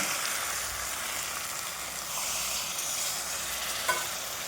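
Chicken fries in a pan with a steady, close hiss of sizzling oil while it is stirred, and a small scrape or clink stands out near the end.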